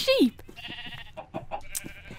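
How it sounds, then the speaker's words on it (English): Sheep in the Minecraft video game let out a loud, sharp bleat at the start, then more faint game bleats and clicks sit under lively voices talking. "there's loads of sheep"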